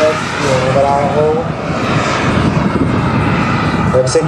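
The engine of an RC model MD-80 airliner drones steadily overhead in a constant buzzing whine, with a voice talking underneath.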